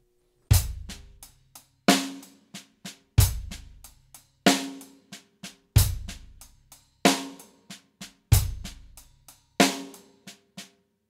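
A regular paradiddle groove on drum kit, with accented hi-hat strokes doubled by bass drum thumps at the start of each group followed by lighter taps, repeating steadily and close with no voices.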